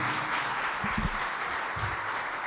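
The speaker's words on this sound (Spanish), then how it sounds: "Puede darle un aplauso al Señor." A church congregation applauding during a sermon, a dense, steady wash of many hands clapping at once, moderately loud and continuous throughout with no individual claps standing out.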